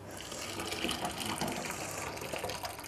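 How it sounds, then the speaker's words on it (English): Cooked organic potatoes are drained, with a steady close rush of pouring water running throughout. "Next, we're going to just drain our potatoes, which are cooked."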